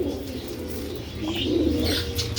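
Pigeons on a home pigeon farm give soft, low, rolling coos close by, with faint chirps over a steady background murmur.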